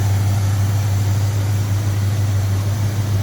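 The V8 engine of a 1969 Pontiac GTO 'The Judge' idles with a steady, loud low-pitched rumble, close up and unbroken for the whole moment.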